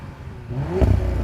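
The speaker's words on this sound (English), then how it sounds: "let's have a listen to this V6" An Audi V6 car engine revs briefly up toward its soft limiter, a short rising roar swelling from idle over little more than a second, close and alone.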